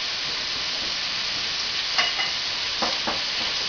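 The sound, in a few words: stirring cream of mushroom soup into mixture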